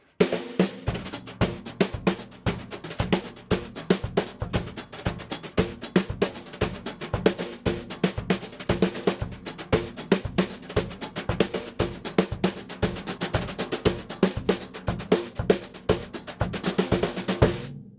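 A drum set plays a busy street samba (batucada) groove with brushes pressed into the head for a thicker sound, dense rapid strokes and accents in a driving, continuous rhythm, close and unaccompanied.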